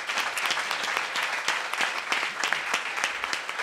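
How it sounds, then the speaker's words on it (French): Audience at a foundation launch evening applauds in a steady, even wash of many clapping hands, moderately loud and unbroken throughout. "On peut l'applaudir."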